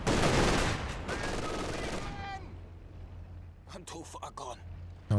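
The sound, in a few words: LMG Grenadiers machine gun fire in Company of Heroes 2 video game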